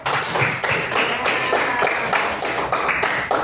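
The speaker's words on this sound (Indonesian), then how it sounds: "Tepuk tangan." A classroom full of students applauding together in a loud, steady rhythmic clap that pulses in regular beats for several seconds, with no talking over it.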